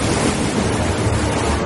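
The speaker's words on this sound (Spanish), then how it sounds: "las olas rompen las barreras de la ciudad." Storm waves from the biggest nor'easter in decades break over Boston's city barriers, a loud, continuous roar of surf and wind rushing close by without letup.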